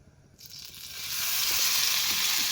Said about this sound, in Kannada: ಇದನ್ನೊಂದು ಸಣ್ಣ ಪೀಸ್ ಹಾಕಿ ನೋಡ್ತೀನಿ ರೀ ಎಣ್ಣೆ ಕಾದತ್ತೇನಿಲ್ಲ ಅಂಥೇಳಿ